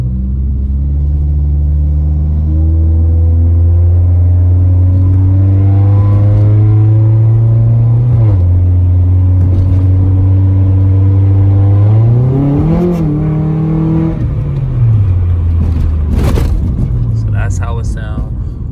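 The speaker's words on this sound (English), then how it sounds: "Show you guys how the drone sound driving on the street." A 2002 Honda Accord with its resonator deleted cruises down a street with the windows up, giving a steady, loud low exhaust drone whose pitch dips and climbs as the engine revs change through gear shifts.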